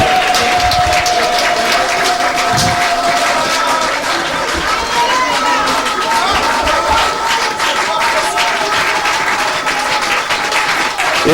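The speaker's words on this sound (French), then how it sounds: "Acclamons encore très fort le Seigneur." A church congregation claps and cheers loudly and continuously for the Lord, with the applause sustained throughout and a single held vocal tone carrying over the crowd early on.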